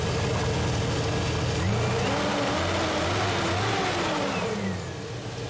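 A 2002 Chevy Silverado pickup's engine runs steadily up close, a continuous mid-pitched drone with a few swells in revs, loud throughout and alone with no talking.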